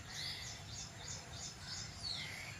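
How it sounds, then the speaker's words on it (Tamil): Small birds such as a koel and sparrows chirp in a vegetable garden with bitter gourd vines, thin repeated high calls coming in regular bursts over a steady low background hum. "குயில் சத்தமும் குருவி சத்தமும்"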